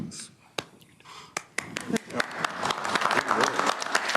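At a council meeting, scattered single claps ring out sharply at first, then more hands join and the sound thickens into steady applause from a seated audience, with soft murmuring beneath.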